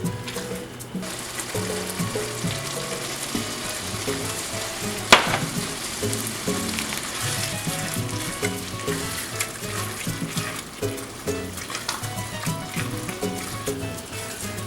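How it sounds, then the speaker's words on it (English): Picadillo with roughly chopped olives just added, sizzling steadily in the pan with occasional stirring scrapes and one sharp clink, while background music plays throughout. "We're gonna add a 1/3 cup of roughly chopped olives."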